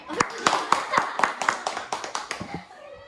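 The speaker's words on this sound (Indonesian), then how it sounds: "Tepuk tangannya." A small audience at an Indonesian school counselling session claps in about a dozen distinct, fairly even beats that soften and trail off toward the end. A voice talks alongside the claps.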